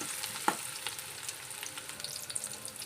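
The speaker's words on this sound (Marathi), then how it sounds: "तेल आपलं गरम झालेलं आहे। आता ह्यामध्ये आपण सर्वप्रथम कांदा घालून घेणार आहोत।" Onion goes into hot oil for a Malvani-style white vatana usal, setting off a close, steady sizzle with a few stirring scrapes and no voices.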